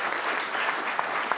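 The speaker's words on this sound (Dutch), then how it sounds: "Aan deze kant hartelijk applaus." Audience at a talk event clapping together, a dense burst of applause that fills the whole moment, fairly loud and close, with a couple of sharper individual claps standing out.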